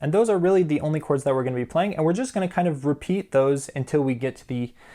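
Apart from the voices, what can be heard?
No everyday noise stands out behind the speech.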